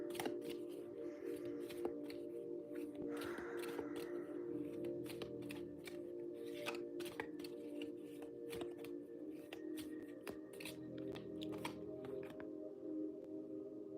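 Tarot cards are shuffled during a card reading, giving quiet, rapid riffling and flicking clicks in uneven bursts over a low, steady background hum.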